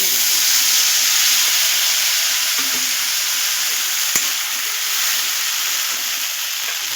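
Poppy seed and white sesame paste sizzling in hot oil in a wok, cooked for a pointed gourd dish, giving a steady, close, loud frying hiss that continues without pause and without voices.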